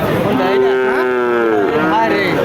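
Cattle at a busy rural cattle market in Bangladesh, one loud close moo drawn out for about two seconds with a falling, wavering pitch, over background crowd murmur.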